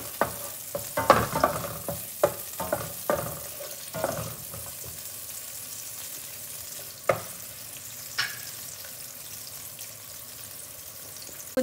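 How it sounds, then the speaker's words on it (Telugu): Homegrown garden chillies fry in a pan for chilli chicken, a soft sizzle punctuated by irregular clanks and scrapes of stirring that thin out toward the end, with no speech. "ఈ చిల్లీస్ కూడా కొంచెం ఫ్రై చేసుకున్నాను."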